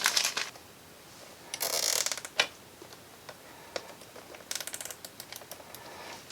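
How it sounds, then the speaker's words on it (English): Plastic zip tie ratcheting tight around wiring on a Harley-Davidson motorcycle during a tour pack light install, two bursts of quick clicking zips near the mic, with scattered small handling clicks between them. "So I think we actually will put a zip tie on here."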